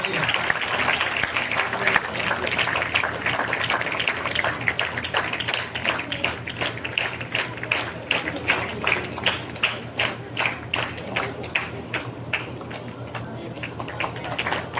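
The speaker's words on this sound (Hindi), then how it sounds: "जोरदार अभिनंदन और तालियां।" Sustained applause from an audience at a district education award ceremony, dense continuous clapping that turns into more distinct rhythmic claps toward the end, with some voices underneath.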